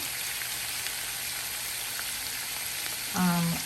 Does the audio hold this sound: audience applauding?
no